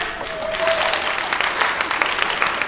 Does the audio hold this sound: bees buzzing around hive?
no